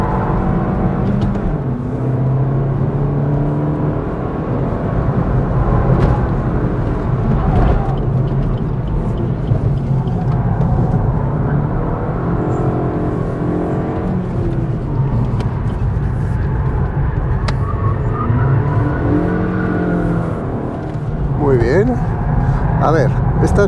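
A 2022 Suzuki Swift Sport's engine pulls hard in second gear on a circuit, a loud, droning in-cabin hum that rises in pitch over several stretches, with a voice talking over it.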